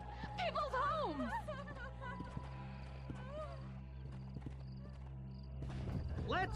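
A horse in Red Dead Redemption whinnies and snorts near the start, with a few hoof clops and another short neigh at the end, over a steady low game ambience.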